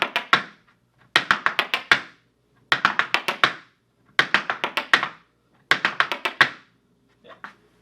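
Irish dance trebles with heel clicks on a studio floor, heard as five quick bursts of sharp hard-shoe taps and clicks, each a rapid rhythmic cluster separated by short pauses, close and crisp.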